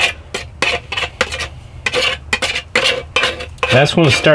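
A knife scrapes around the inside of an emptied can of thick chili ingredient, a quick run of rasping strokes with short gaps, close and fairly loud, ending in faster scraping.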